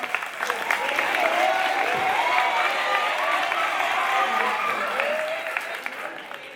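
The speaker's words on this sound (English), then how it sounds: "Give a round of applause, y'all." Sustained audience applause at a school graduation ceremony, a dense even wash of clapping from a large crowd with cheering voices mixed in, fairly loud and steady before tapering slightly at the end.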